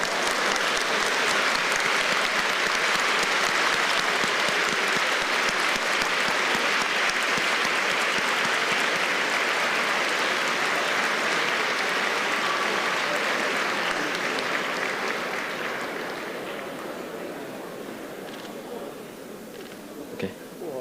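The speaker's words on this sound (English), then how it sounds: "Please give a round of applause to the President of the Republic of China, Her Excellency, Ms. Tsai Ing-wen." A banquet audience gives a long, dense round of applause for the president at a chamber of commerce dinner, loud and sustained before gradually thinning and fading out toward the end.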